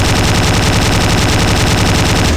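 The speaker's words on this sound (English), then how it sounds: "so you can just keep firing at them" A no-recoil weapon in the video game Slendytubbies 3 fires in a loud, rapid, unbroken automatic burst of evenly spaced shots with no talking over it.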